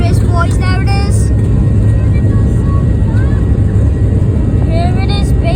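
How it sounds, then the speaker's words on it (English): A Boeing 737-800 MAX taking off from Antalya, Turkey, its engines producing a loud, constant low rumble heard from inside the cabin with a few higher tonal whines. "Hear that roar of the engine of the 737."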